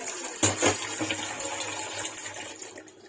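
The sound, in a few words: water poured into khichuri pot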